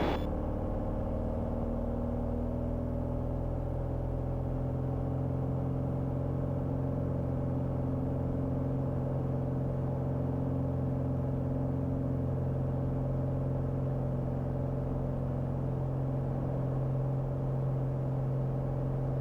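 A small private plane's engine runs up to full power for the takeoff roll, a loud, steady droning rumble with sustained tonal hum and no voices.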